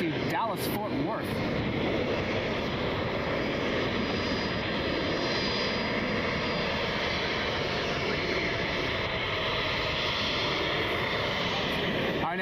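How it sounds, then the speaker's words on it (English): American Airlines Boeing 737-800 jet at Cleveland Hopkins International, a steady loud engine roar filling the whole stretch with broad rumble and whine, airport ambience, no voices over it. "This is flight 2336. It's a 737-800."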